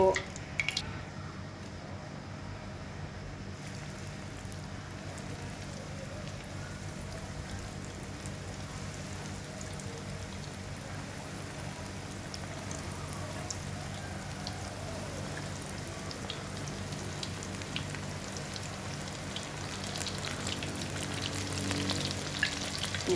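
Pangasius fish frying in a pan of oil, a soft, continuous crackling sizzle that stays low and even for the whole stretch, with no talk over it.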